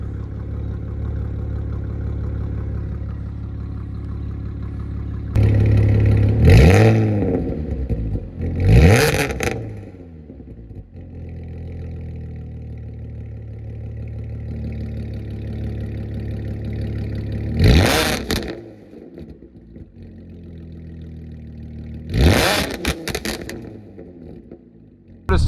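Armytrix valved catback exhaust on an Audi B8.5 S4 cruising in comfort mode with the valves closed, giving a low, steady engine drone with brief louder swells, under talk inside the car.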